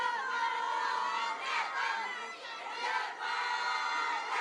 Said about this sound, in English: And the crowd has been involved right throughout this fixture.